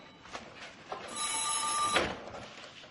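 An electronic telephone ring sounds once for about a second, a bright trilling tone, with quieter background noise before and after.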